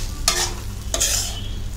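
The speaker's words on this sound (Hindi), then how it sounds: "अब इसको 5 मिनट तक सिर्फ ऐसे मिक्स करना है" Veg fried rice made with already-cooked rice being stirred in a pan at home, two distinct scraping strokes of the spatula over a steady low sizzle of frying, close and clear with no talking.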